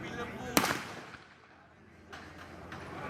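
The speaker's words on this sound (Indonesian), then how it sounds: "para personil melakukan latihan menembak dengan senjata laras panjang jenis SS1" Sharp gunshots from SS1 long-barrel rifles crack at a police shooting practice in Banda Aceh, one loud nearby report followed by fainter distant shots over outdoor background noise.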